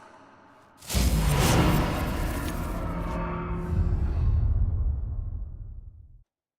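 A teleport effect in The Witcher 3 swells suddenly into a loud, sustained rushing whoosh, holds for several seconds and then cuts off abruptly into silence, with no voices.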